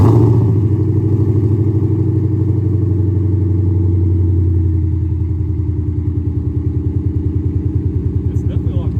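A 5.0 Mustang fitted with a Borla S-Type exhaust, starting with a deep, loud, smooth drone that settles into a lower, pulsing burble as the revs drop.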